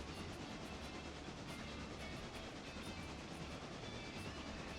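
A passenger train rolls along in the video game Railroader, a steady low rumble with faint rhythmic clatter and hiss, distant and fairly quiet, with no talking.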